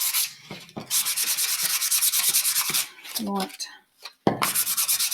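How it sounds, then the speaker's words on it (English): Hand sanding of a picture frame with P240 sandpaper, close and loud rhythmic rasping strokes in quick repeated bursts, with a short pause midway and a brief word spoken. "We grab some sandpaper. This one's P240."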